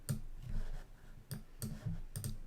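Computer mouse buttons clicking at a desk during photo-editing work, several sharp separate clicks spaced irregularly, close and fairly quiet over light room noise.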